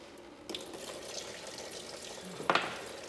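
Fluid trickles and splashes steadily out of a small block Chevy engine that sat outside flipped over, a continuous watery drain with a brief louder splash near the end.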